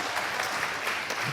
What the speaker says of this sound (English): Please give a very warm round of applause to Floort.